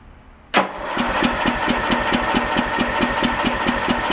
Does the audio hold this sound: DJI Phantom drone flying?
no